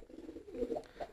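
Pigeons give soft, close cooing calls, a short low burble repeated twice in a quiet setting.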